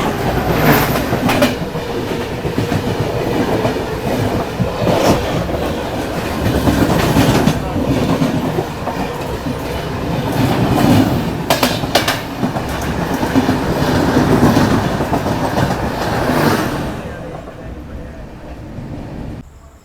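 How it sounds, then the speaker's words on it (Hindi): A 22405 Bhagalpur–Anand Vihar tri-weekly Garib Rath Express rolls past nearby, a loud continuous rumble with rhythmic clickety-clack of wheels over rail joints, while voices talk over it. "यहाँ अपनी मुलाकात हो रही है 22405 भागलपुर आनंद विहार ट्राई वीकली गरीब रथ एक्सप्रेस से"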